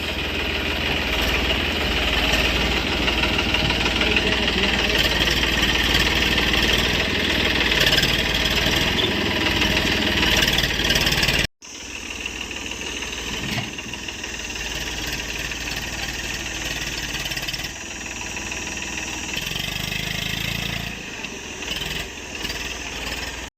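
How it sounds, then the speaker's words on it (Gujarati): A tractor engine idles on a farm while it is loaded with manure: a loud, constant, close rumbling drone that cuts out for an instant near the middle and then carries on. "અત્યારે અમારું ટ્રેક્ટર ભરાય"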